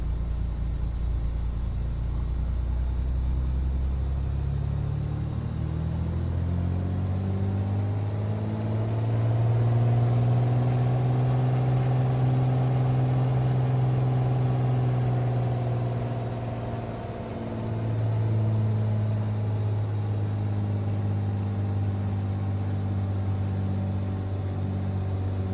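Single piston engine of a Piper Turbo Arrow III in Microsoft Flight Simulator 2020, parked with the brake set, its steady droning hum climbing in pitch as the throttle rises to about 2,000 rpm, holding, then dipping briefly, close and alone.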